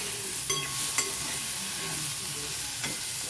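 Softened brinjal being stirred in a pan, a steady frying hiss with a few distinct spatula knocks and scrapes, close and continuous with no speech.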